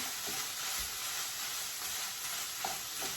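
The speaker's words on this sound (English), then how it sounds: "And then I'm going to stir it around." Salt-and-pepper seasoned beef fries in a pan with no added fat, a steady broadband sizzle running throughout with a few soft scrapes and clicks of a spoon stirring it around, close and continuous.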